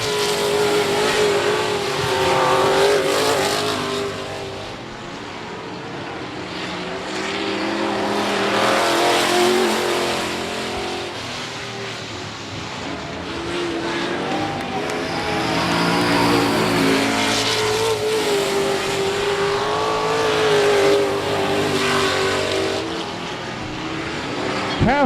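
Race cars circling I-37 Speedway in a 2019 championship race, a continuous loud roar of several engines with rising and falling revs as the pack passes, steady throughout without speech.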